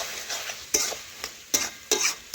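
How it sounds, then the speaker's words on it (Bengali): Potato and vegetables are stirred in a covered pan, with soft sizzling under irregular scraping strokes and a few sharper clinks of the utensil against the pan. "এজন্য আবার একটু নাড়াচাড়া করে নিচ্ছি।"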